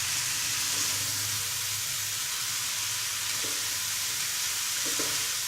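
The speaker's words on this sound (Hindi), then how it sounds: "इसको हम धीरे धीरे चलाएंगे।" Road-style chowmein noodles are stirred slowly in a hot pan, making a steady, loud frying sizzle and hiss that runs the whole time, with a few faint scraping clinks and no voices.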